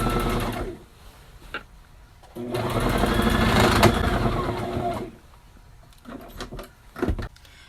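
A sewing machine running out of thread whirs in short bursts, with one longer steady run in the middle and a few brief clicks and stops around it.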